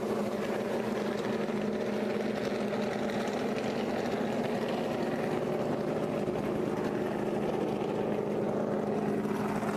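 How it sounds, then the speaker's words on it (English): A continuous low rumble of NASCAR race car engines at Michigan running at a steady idle before practice, droning evenly without sharp revs, no voices. "you hear the cars tooting their engines and getting ready for practice right now"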